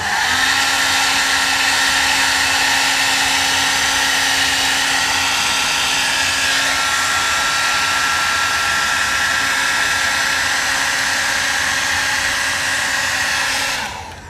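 A heat gun runs steadily at close range for about fourteen seconds as it warms masking tape on a painted part of a Kawasaki H1 motorcycle. It gives a constant loud whooshing whine and then cuts off at the end.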